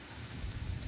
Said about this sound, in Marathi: पाऊस आला आला आला